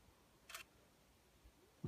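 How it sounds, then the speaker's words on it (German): A single camera shutter fires faintly once on a motorized pan/tilt panorama head, a brief soft click in a quiet room, followed by a small thump at the end. "Die Kamera hat das erste Mal ausgelöst an der Startposition."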